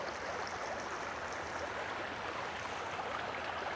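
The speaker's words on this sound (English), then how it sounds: "Running water." A stream's running water makes a steady, full rushing and gurgling wash, close and continuous, with no voices over it.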